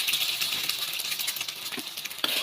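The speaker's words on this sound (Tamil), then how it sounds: "எண்ணெய் சூடாயிருச்சு. இப்போ முட்டை ஊற்றிக்கலாம்." Beaten egg hits hot oil in a wide pan while making Penang-style fried rice vermicelli, giving a steady close sizzle with light crackle and spatter throughout and one sharper pop near the end.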